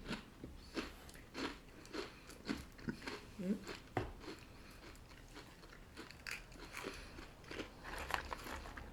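Crunchy Dutch fried onion snacks are bitten and chewed close to the mic, a run of quiet crackling crunches at an irregular pace with soft mouth sounds.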